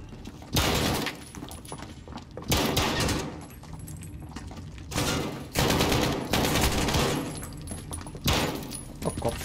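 Gunfire in the video game Call of Duty Modern Warfare: repeated loud bursts of shooting in several clusters, each lasting about a second, with quieter gaps between and faint game sounds in the background.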